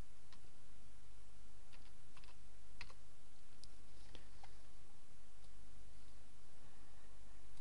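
Close, fairly quiet keystrokes as a password is typed on a computer keyboard, an irregular run of separate clicks over a steady low hum, with no talking.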